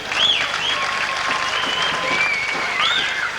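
A warm crowd at an evening event claps steadily in sustained applause, with a few whistles cutting through the dense clapping.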